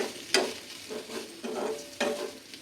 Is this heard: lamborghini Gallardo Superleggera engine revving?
no